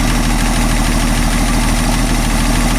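A Citroen car engine idles steadily close by, a loud continuous low rumble with a pulsing mechanical vibration and no voices over it.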